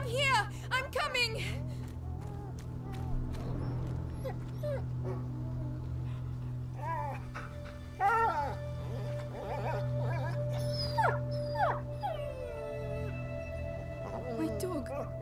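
A dog whimpers, yips and lets out howling cries in the video game A Plague Tale: Innocence. The pained calls come in repeated bursts over a steady low background, with voices speaking at times.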